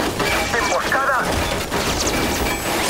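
Gunfire from an ambush in Far Cry 5 rattles in loud, dense bursts with crashes and booms, layered over busy game noise and a shouting voice.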